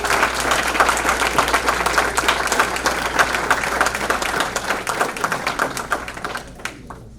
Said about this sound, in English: Let's give these students and their sponsors a big round of applause